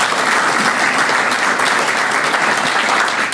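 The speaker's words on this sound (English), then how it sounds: "how about a round of applause for" Steady applause from the audience fills a veterans' recognition breakfast as board members are honoured, continuous and even in loudness throughout with no talk over it.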